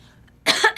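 A voice imitates a vampire's cough, giving one short, loud, rough cough burst after a brief quiet lead-in, close and clear.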